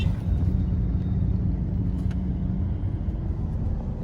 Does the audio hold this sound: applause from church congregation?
no